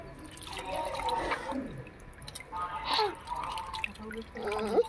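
Water poured over a sister's hands during a wedding ritual game, splashing and trickling in short bursts while people talk close by.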